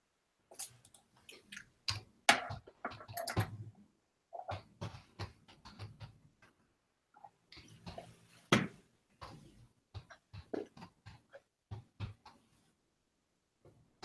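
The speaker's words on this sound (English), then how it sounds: "Use my typing skills." Fingers type on a computer keyboard in quick clattering bursts of keystrokes separated by brief pauses, close and fairly quiet, with no talking.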